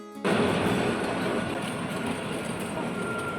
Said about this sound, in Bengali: আঁকাবাঁকা পাহাড়ি পথে আমাদের টয় ট্রেন উঠতে শুরু করল